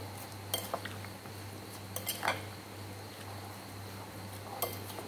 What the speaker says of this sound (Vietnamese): Bây giờ chúng ta trộn lên nhé.